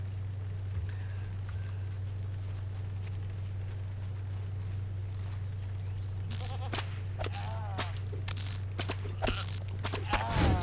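A goat bleats several times toward the end, short wavering calls over a constant low electrical hum and faint background clatter.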